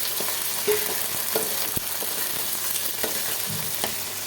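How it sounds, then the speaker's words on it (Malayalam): Garlic, ginger and bird's eye chilies fry together with curry leaves in oil in a pan for a pickle, a dense continuous close sizzle broken by a few sharp spatula taps, with no voices. "നല്ലോണം ഇങ്ങനെ മുരിയട്ടെട്ടോ നല്ലോണം മുരിഞ്ഞ് വറുത്തിട്ട്"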